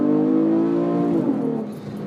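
A modified 2013 Camaro V6 with a catback mid-muffler exhaust and almost no mufflers revs loudly, holding a steady raspy drone before the pitch dips and falls away.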